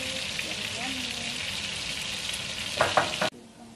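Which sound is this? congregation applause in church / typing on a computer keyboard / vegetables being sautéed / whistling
vegetables being sautéed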